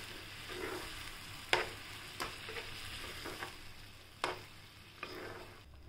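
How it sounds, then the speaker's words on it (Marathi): Upma with buttermilk stirred in a pan, heard as a faint, low bubbling hiss punctuated by a handful of sharp spoon clicks against the pan. "ताक टाकलं पण ते हलवून घेऊया चांगलं."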